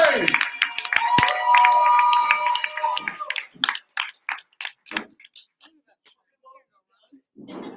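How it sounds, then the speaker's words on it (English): An audience at a poetry slam claps loudly and densely at first, then the applause thins into scattered, fading claps while a voice speaks over it. "right now you're already clapping"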